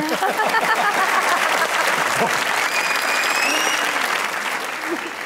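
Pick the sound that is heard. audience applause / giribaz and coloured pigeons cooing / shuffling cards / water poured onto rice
audience applause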